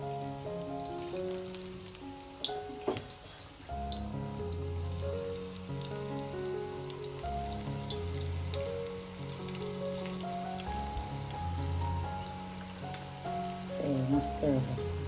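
Corn fritters frying in hot oil in a kadhai, a steady bubbling sizzle running underneath a voice as she talks over it, with occasional small taps and clinks.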